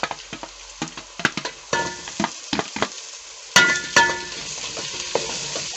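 Onions and potatoes fry in a pan as a spatula stirs and scrapes, with sharp clicks and knocks over a steady close sizzle. No talking.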